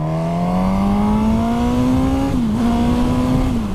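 A Suzuki GSX-S motorcycle with a straight-four engine and no variable valve timing revs hard, loud and close, its pitch climbing smoothly, briefly dipping as if shifting gear, then pulling again.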